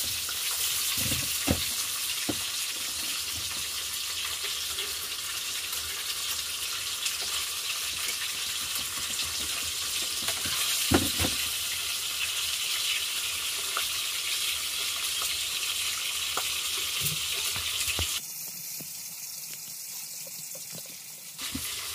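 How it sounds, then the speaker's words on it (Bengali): Hilsa fish sizzling in a pan of oil at home, a continuous close crackling hiss with a few spatter pops, dropping abruptly to a quieter, thinner sizzle near the end. "আমি মাছগুলো হালকা করে ভেজে নিচ্ছি"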